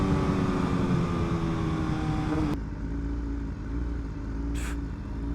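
A BMW HP4 Race motorcycle with a full exhaust holds a loud, high engine drone on launch control, then abruptly cuts to a lower idle rumble with a short burst of noise near the end.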